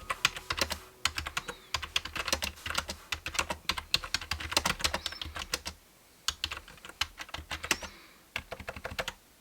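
Loud, clattery typing on a noisy Bluetooth keyboard, fast bursts of close keystrokes with a brief pause partway through, heard alone without talk.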